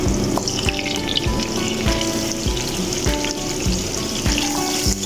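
Carrots tumble into garlic already frying in a pan for escabeche, setting off a steady loud sizzle with repeated low thumps and scraping from stirring, close up and with no talk.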